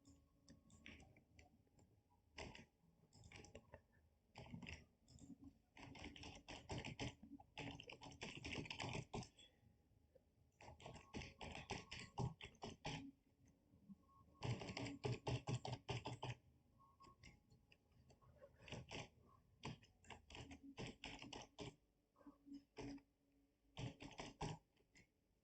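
Registration details are typed on a computer keyboard in quiet bursts of rapid clicking keystrokes, with short pauses between runs and no talking.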